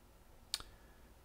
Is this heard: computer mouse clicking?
yes